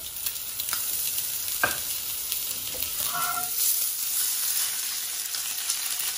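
Spiny lobster frying in butter in a pan gives a quiet, steady sizzle with a few light clinks and scrapes of a utensil, and no talk.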